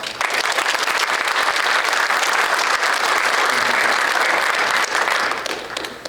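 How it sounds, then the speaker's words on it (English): A chamber of commerce evening audience gives one final round of applause, loud, dense and steady clapping from a large crowd that holds for about five seconds before tapering off. "let's have one final round of applause."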